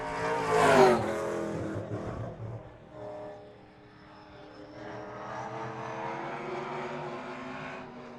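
An orange and yellow Chevrolet Pro Stock race car, number 96, runs at Seekonk Speedway, its engine roaring loudly up close at first, then settling into a steady, more distant drone as it circles the oval track.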